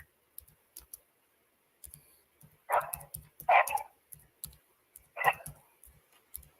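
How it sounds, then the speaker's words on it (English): Several short yelps and small barks from young dogs in a scuffle, scattered between quiet moments, with some clicking in the background. "my puppies are playing"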